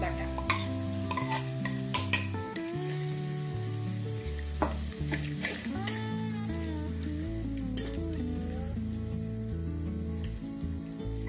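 Spices with turmeric, chili powder and ginger-garlic paste being stir-fried in a pan, with a steady sizzle and repeated scraping and clinking of a spoon against the pan, no voices.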